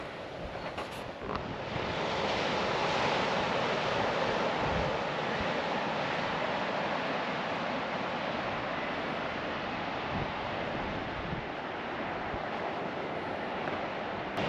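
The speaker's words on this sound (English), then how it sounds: "Well, this is a pretty stunning beach." Surf rolling onto a white sandy beach with clear blue sea on Scotland's north coast, a loud, constant wash of breaking waves mixed with wind buffeting the microphone, no voices.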